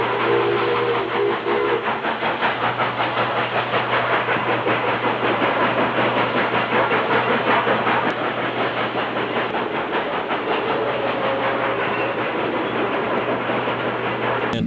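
Pennsylvania Railroad steam locomotive working a rail yard, a loud steady rumble and rhythmic clatter with a sustained low drone, continuous and close throughout.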